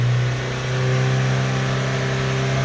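A Volvo big-turbo four-cylinder engine cranks over steadily on the starter without firing, a loud, continuous whirring drone close by with no voices.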